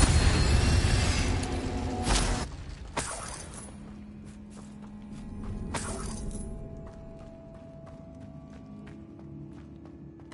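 In the Hogwarts Legacy video game, an Incendio fire spell is cast with a loud burst of roaring, crackling noise at the start. It cuts off abruptly into quieter scattered impacts and a second softer flare, with no talking.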